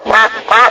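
Two loud, nasal cartoon duck quacks in quick succession, close and clear with no talking.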